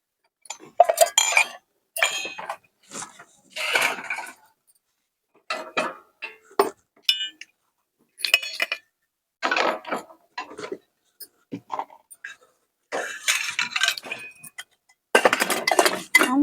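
Plates, pots and pans are handled and set down in a home kitchen in short bursts of clinking and clattering, metal and ceramic knocks separated by brief silent gaps.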